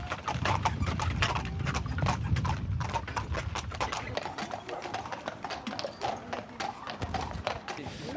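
Horses pulling a carriage clip-clop in a quick, steady rhythm of hoofbeats on a hard surface, close by, while a voice talks in the background.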